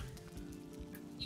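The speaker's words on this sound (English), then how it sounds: "starting to rain" Rain falls in the video game Valheim, a faint, short patter of drops spread across the sound with no talking.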